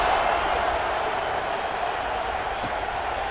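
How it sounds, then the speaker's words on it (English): Steady roar of a college football stadium crowd at a BYU at Utah game, buzzing loudly after a score, a continuous wash of cheering and chatter throughout. "this crowd is buzzing after that last score"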